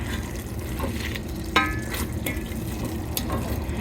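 Collard greens cooking in a pot over a low flame, giving a soft steady bubbling and faint sizzle with a few light clinks, continuous and fairly quiet, with no talking.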